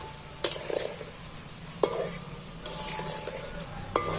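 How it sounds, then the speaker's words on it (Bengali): Fish fritters fry gently in oil over low heat with a soft, steady sizzle, broken by a few sharp clinks and scrapes of a utensil against the pan. "এইভাবে হালকা আঁচ দিয়ে হালকা আঁচে ভাজতে হবে"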